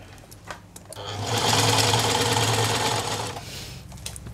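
A Singer 984 semi-portable sewing machine stitching, a steady rough mechanical whir that rises after a second, runs continuously for about two seconds and then stops, close and loud.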